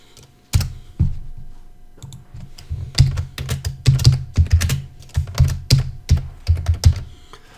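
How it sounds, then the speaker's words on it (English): Typing on a computer keyboard while entering text in GIMP, a close, loud run of irregular key clacks in bursts with short pauses between them, no talking. "I'm going to start typing."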